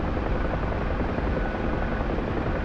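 A helicopter in the DCS flight game hovers near Mount Pleasant in the Falklands, its rotor and engine making a steady, dense, loud whirring drone with no break throughout.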